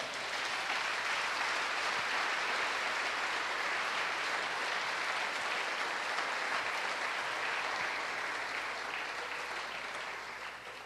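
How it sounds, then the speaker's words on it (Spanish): Loud, sustained applause from a large church congregation, a dense continuous roar of clapping that fades slightly at the end. "Puede dar un fuerte aplauso al Señor."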